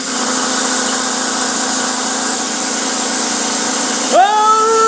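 A homebuilt air compressor runs and pumps air, giving a loud, steady mechanical drone close by, with a tone that rises into a whine near the end.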